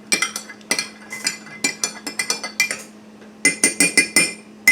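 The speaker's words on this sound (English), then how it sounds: "stir this just a little more" A spoon clinks repeatedly against a bowl while stirring strawberry gelatin dessert, in quick, irregular taps, pausing briefly before a final flurry of clinks.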